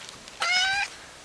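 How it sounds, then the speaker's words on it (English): A hungry cat gives a single short, clear meow close by in an otherwise quiet room. "This cat is a bit hungry today."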